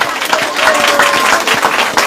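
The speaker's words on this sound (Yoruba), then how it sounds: "Ẹ pàtẹ́wọ́ náà." Wedding guests clap together in a brief burst of dense, overlapping applause from a crowd, with voices mixed in beneath it.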